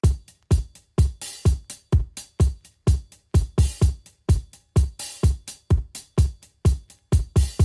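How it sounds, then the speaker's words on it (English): An acoustic drum pattern of punchy, evenly spaced hits with crisp cymbal wash, building a steady driving rhythm with no other sounds. "I went onto the drums and started with this acoustic drum layer for the build-up"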